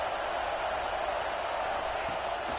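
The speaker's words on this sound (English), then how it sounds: "This crowd bringing the energy and noise early." Steady, dense roar of a stadium crowd cheering throughout a college football video game match against Texas A&M, a continuous wash of noise with no breaks.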